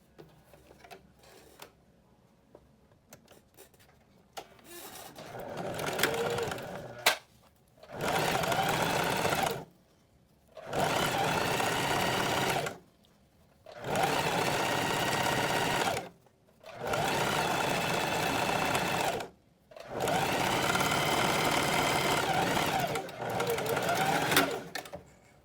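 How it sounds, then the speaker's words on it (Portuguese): A sewing machine stitches a blouse seam in six long bursts of steady whirring, separated by short pauses, close and clear after some quiet handling at the start. "E aqui já podemos costurar isso na máquina."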